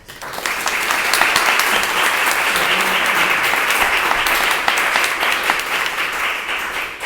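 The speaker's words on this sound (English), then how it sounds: "give Nick Hutchings a round of applause." Loud, sustained audience applause at an artists talk for an anniversary art exhibition, a dense wash of many hands clapping close by for about seven seconds before tapering slightly.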